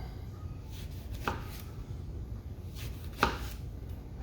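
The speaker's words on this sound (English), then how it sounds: "take a lemon, just slice it up" A knife slices through a lemon into thin slices about an eighth of an inch thick, giving two crisp cutting knocks on a board spaced a couple of seconds apart against a quiet room hum.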